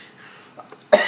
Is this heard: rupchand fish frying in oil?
no